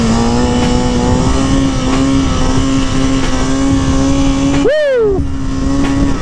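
A stock Kawasaki 636 sport bike engine drones steadily while riding, then revs up sharply and falls back near the end, loud and continuous throughout.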